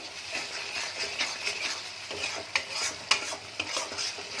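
Potato and pea masala being stirred and fried in a pan over high heat, a soft continuous sizzle with regular scraping stir strokes and occasional clinks of the spoon against the pan.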